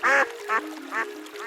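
A cartoon duck quacking four times in a quick, evenly spaced series, bright and nasal, close and clear against a quiet background.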